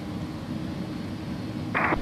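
Inside a simulated A300-600R airliner in X-Plane 11 before takeoff, a steady low engine rumble and cockpit hum holds throughout, with a short higher-pitched tone near the end.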